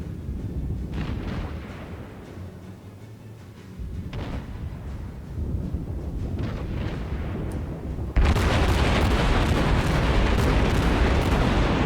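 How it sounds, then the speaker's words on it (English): Naval gunfire from a battleship fight in World of Warships, with the USS St. Louis firing: deep booming salvos and rumbling blasts in a steady game-battle din that swells suddenly louder partway through. "I need to get some shots in on that battleship and set him on fire"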